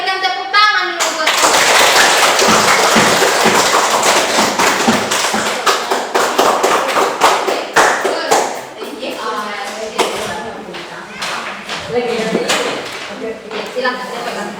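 Classroom audience applauding a student group's performance, a loud, dense burst of hand clapping that gradually thins into scattered claps and taps, with voices talking over it.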